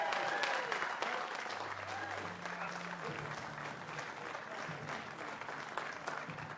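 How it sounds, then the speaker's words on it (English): A crowd at a STIHL Timbersports British Rookie Championship podium ceremony claps steadily at moderate distance while an announcer speaks over the applause. "Huge round of applause."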